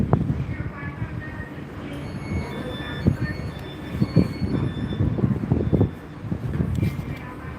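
A train rolling through Gloucester station, loud and nearby, with rumbling wheels, rhythmic clunks over rail joints and thin squeals against open outdoor air.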